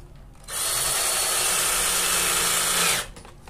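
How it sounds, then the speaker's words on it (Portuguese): A power screwdriver drives a screw into a homemade wooden workbench, giving one steady, loud motor whir of about two and a half seconds that starts and stops abruptly against a quiet room. "Agora eu venho e parafuso aqui, ó,"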